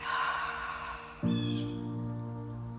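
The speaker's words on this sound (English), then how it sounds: "I love that when I'm out in nature, I can hear the birds talking." A single harsh, drawn-out crow-like caw rings out nearby after a breathy sound, then fades against quiet outdoor background.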